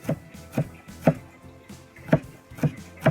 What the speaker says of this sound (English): So we're gonna chop it this way